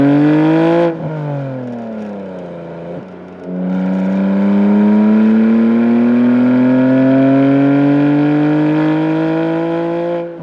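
A BMW G87 M2 with a full titanium Akrapovic Evolution Line exhaust revs loudly nearby, one sharp blip and then a long climbing rev that holds high before cutting off.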